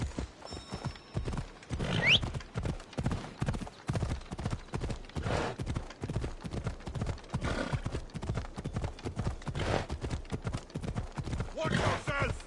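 Horse hooves clip-clop in a steady, rapid rhythm in Assassin's Creed Odyssey, with a brief whinny near the start and faint voices in the background.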